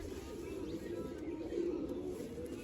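A two-year-old Kalsira pigeon coos faintly in a home loft, a soft, steady low murmur that continues throughout at a distance, with no talk.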